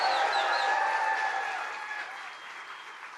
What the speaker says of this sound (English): let's give a round of applause for Mike Rogers